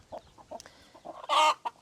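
Broody hens cluck in a coop, one of them a buff orange bird, giving short close-up clucks in an uneven rhythm, then one louder, harsher squawk near the end.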